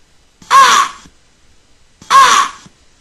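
Crow gives two harsh caws about a second and a half apart, each loud and close, with silence between.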